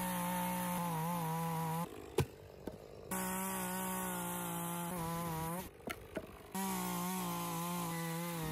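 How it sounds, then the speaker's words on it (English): A small chainsaw cutting a tree stump whines steadily at high revs, briefly dropping to idle twice before roaring back, close by and loud. "We took that little chainsaw that we love, and we sawed off the tall parts."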